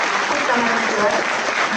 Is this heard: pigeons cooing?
no